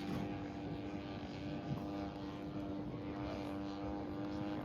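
A radio-controlled scale model airplane flies maneuvers at a scale contest. Its propeller engine gives a steady, unbroken droning buzz for the whole stretch, fairly distant and even in loudness.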